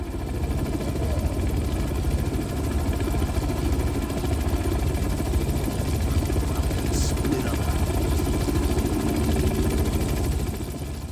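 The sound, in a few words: helicopter flying overhead in video game Manhunt 2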